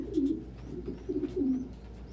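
Domestic pigeons give a few soft, throaty coos close by, a brief series of low murmuring calls with no talking.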